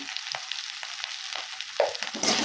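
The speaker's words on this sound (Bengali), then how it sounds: "ভালো করে মশলাটা কষিয়ে দেবো" Soft sizzling of a spice paste with tomato, salt and turmeric sautéing in a pan, with repeated light scraping strokes of a spatula, close and steady, growing a little louder toward the end.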